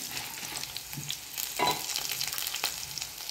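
Dried red chillies fry in hot oil in a pan for gongura pachadi, a steady broadband sizzle and crackle with a few sharper pops, close and moderately loud, no talking.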